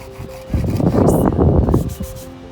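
Quick back-and-forth scrubbing on the surface of an old pioneer grave marker, a loud, close, rasping brush rhythm that fills the middle of the moment and then tapers off, with no voices over it.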